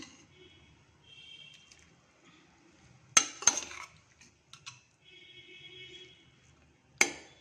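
Vegetables drop into a metal cooking pot with a few sharp clanks and rattles, and a spoon clinks against the rim, close up amid quiet kitchen sounds and faint background noise.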